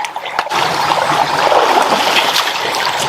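A river flowing in a steady, close rush of broadband water noise with a brief knock at the start, no talking.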